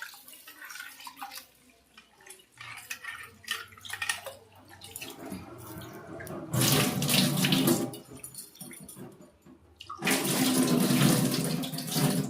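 Lentils being rinsed under a running kitchen tap for daliya, with water splashing and trickling in uneven surges that grow louder toward the end, with no voices.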